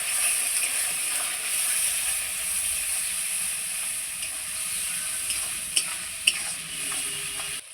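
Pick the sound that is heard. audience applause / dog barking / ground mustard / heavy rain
ground mustard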